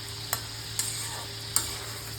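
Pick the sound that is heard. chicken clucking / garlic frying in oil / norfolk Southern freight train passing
garlic frying in oil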